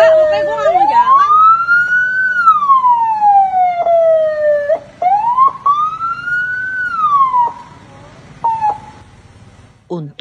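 A private car on a two-way road sounds an unauthorized siren, loud and close, in long rising and falling wails that repeat twice before tailing off.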